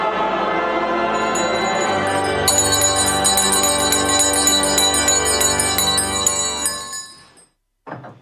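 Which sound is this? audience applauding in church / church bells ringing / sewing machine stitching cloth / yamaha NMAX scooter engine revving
church bells ringing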